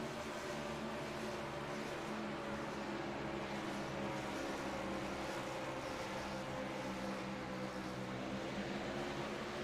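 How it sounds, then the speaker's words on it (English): Race car engines at a USRA event at Talladega rev on throttle before the green flag, a dense, sustained mechanical drone of several engines held at a steady, moderately distant level with no speech. "These guys bring these engines up to full song, bring them up through the gearbox."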